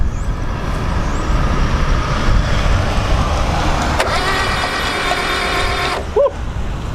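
The engine of a 1975 Daihatsu F10 being revived runs steadily at close range, a rough, continuous low rumble with a brief high-pitched squeak near the end.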